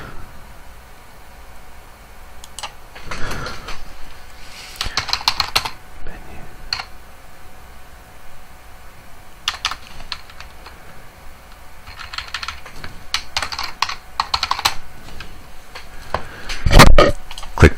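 Bursts of typing on a computer keyboard, quick clusters of key clicks separated by quiet pauses, close and fairly crisp, with a louder clack near the end.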